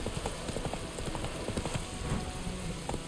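Hooves of the horse Roach clip-clopping at a steady walking pace in The Witcher 3, a continuous run of clear clops close by over a light ambient rain-like hiss.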